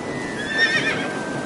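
A horse whinnies in The Somnium Files video game: a single short, shrill, wavering neigh over a low background hum.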